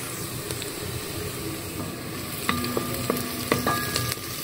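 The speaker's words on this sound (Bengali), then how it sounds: "পেঁয়াজ ভেজে নিচ্ছি। আমি অল্প একটু ঘি ইউজ করেছি" Onions fry in a little ghee, a steady low sizzle running throughout with a few sharper clinks and stirring knocks toward the end, close and moderately quiet.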